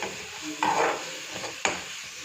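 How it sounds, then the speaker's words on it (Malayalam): Chili powder is stirred into macaroni masala in a pan, giving a soft scraping stir with a faint sizzle and two brief utensil scrapes against the pan, close by and without speech. "മുക്കാൽ ടീസ്പൂണോളം മുളക് പൊടി ഇട്ട് കൊടുത്തിനെ ഇതൊന്ന് ഇളക്കി കൊടുക്കാം"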